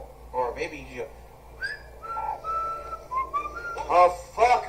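A person whistles a few wavering, sliding notes, with brief bursts of talk and background voices around the whistling.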